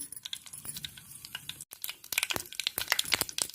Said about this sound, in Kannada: ನೋಡಿ, ಇವಾಗ ಸಾಸಿವೆ ಸಿಡಿತಾ ಇದೆ.